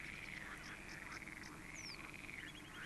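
Common frogs (grass frogs) croak in a pond, a faint, continuous chorus of rippling calls with no voices present.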